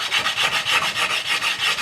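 A wooden guitar headstock is hand-sanded in a quick, regular back-and-forth rasping rhythm, about eight strokes, close and fairly loud with no voices.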